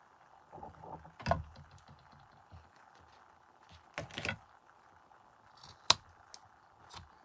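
Chenille yarn trimmed with scissors, a few sharp, separate snips spread across a quiet stretch, close and faint.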